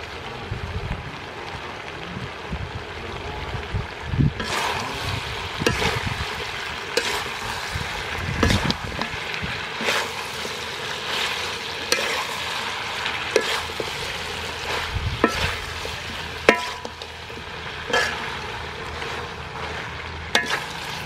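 Chopped onion frying in a pan for a chicken stir fry with young green pepper, a continuous close sizzle broken by scraping stirs and clatters of the utensil against the pan.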